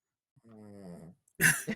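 A dog gives a short whine or low vocal sound, followed by a brief louder huff or bark-like burst, close and fairly quiet.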